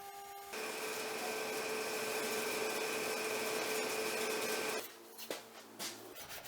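Loud, steady whirring of a power sander on the edges of a wooden coffee table, a constant buzzing drone that cuts off abruptly near the end, followed by a few faint knocks and handling sounds.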